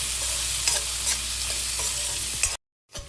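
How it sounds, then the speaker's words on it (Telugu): Chopped onion and green chili fry in a pan while being stirred, producing a close, steady sizzle with scraping stir strokes, then a short drop to silence before the sizzle resumes. "ఉల్లిపాయ ముక్కలన్నీ కొంచెం బంగారు కలర్లో వచ్చే వరకు వేయించుకోవాలి"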